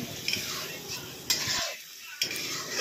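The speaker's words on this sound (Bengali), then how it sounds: "দেখো মশলাটা কষানো হয়ে গেল" A spatula stirs and scrapes spice paste, being fried down for a small-fish curry with onion and tomato, around a metal pan. The scraping is soft and steady, with a few light clinks and a brief quiet pause midway.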